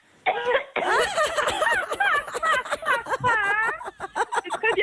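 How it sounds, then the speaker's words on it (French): Several people in a laughter yoga group cough into their elbows, a dense run of overlapping coughs and throat sounds mixed with laughter and voices, close and steady throughout. "On tousse chacun dans un coude et puis dans l'autre"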